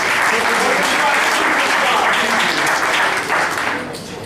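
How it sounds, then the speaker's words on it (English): Audience applause at a poker final table, steady dense clapping filling the room close and loud, thinning out slightly toward the end. "One more nice round of applause for Roland DeWolf."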